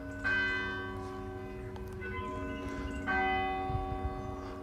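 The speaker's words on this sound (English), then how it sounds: "Nice to hear the bells tolling, especially when you're filming." Church bells tolling near a locked mausoleum, rich ringing strikes that overlap and hang in the air, with two or three fresh strikes swelling over a continuous humming decay, moderately distant and with no voices.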